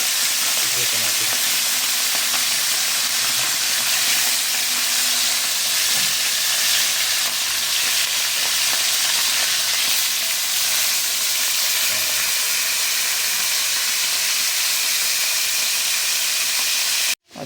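Fish steak sizzles and crackles steadily in hot oil, a loud continuous frying hiss that cuts off abruptly at the end.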